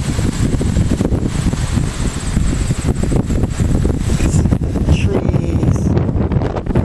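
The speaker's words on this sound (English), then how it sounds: "Whoa, big wind gusts." Strong storm wind gusts from the south roar and buffet the microphone steadily throughout, a loud, continuous rumbling rush with no pauses.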